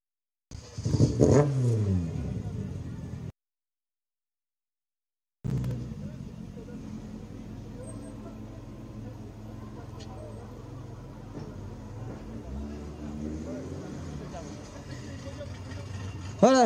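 Porsche 964 rally car at a historic rally finish podium, its engine rumbling and revving nearby, a loud burst at the start, then a steady idle drone with crowd noise after a brief gap.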